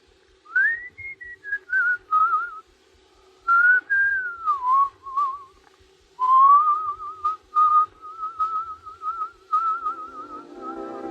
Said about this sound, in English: What's that you're whistling?